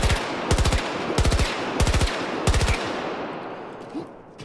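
Five short bursts of automatic gunfire from the video game Battlefield 2042, loud and close, each a rapid string of shots separated by brief gaps before the sound fades out.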